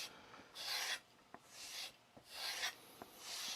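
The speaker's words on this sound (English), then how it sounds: "I'm going to use this hanging strop over here real quick just to make sure I got the burr off." A chef knife of hard stainless steel, an R.H. Forschner Victorinox, is drawn along the smooth side of a hanging leather strop, giving a few soft rasping strokes in a steady back-and-forth rhythm with quiet ticks between passes.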